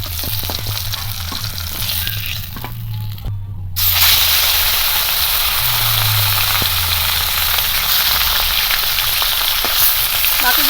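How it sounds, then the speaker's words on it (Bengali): Pieces of katla fish sizzle and hiss steadily in hot oil in a home kitchen pan, a dense continuous crackle that grows louder partway through and runs alone without talk. "দুটো মাছও ভালো করে ভেজে নেব"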